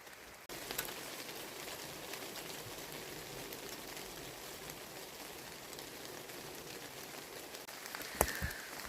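Heavy rain falls steadily on a 3×3 tarp tent pitched in the woods, a dense, even patter that continues throughout, with a couple of sharper drips or taps near the end.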